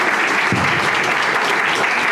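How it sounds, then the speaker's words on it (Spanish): A church audience applauds a priest strongly, a dense, even wash of clapping that stays loud and steady throughout without pause. "Yo creo que un aplauso fuerte para el padre"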